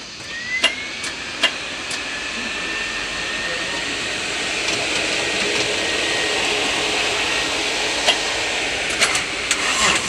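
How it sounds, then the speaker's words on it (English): The starter motor of a Chevrolet HHR cranks with a steady, droning whir that holds for several seconds, with a few sharp clicks at the start and end. "Sounds like the starter."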